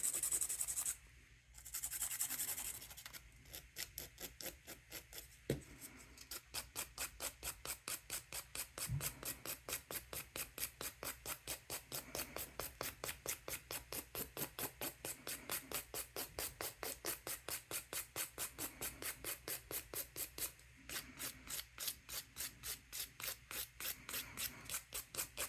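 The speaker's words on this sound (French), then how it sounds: "je vais venir limer mon ongle" A fingernail coated in amber gel being filed with a nail file, a long run of quick, even rasping strokes close to the microphone after a few brief handling sounds, with no talk.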